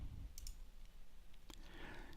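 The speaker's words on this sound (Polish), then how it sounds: "możemy kliknąć lewym przyciskiem myszy na obrazie i przybliżyć lub przytrzymać Alt i oddalić" Sharp mouse clicks on a computer while zooming an image in After Effects, a few isolated clicks near the start and one around the middle, close and crisp over a faint room hiss.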